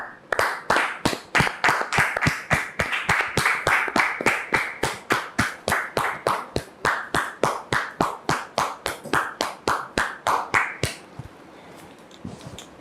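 An audience claps in a strikingly regular, rhythmic beat to welcome a woman onto a stage, sharp close claps repeating for about eleven seconds before stopping abruptly into quiet room tone.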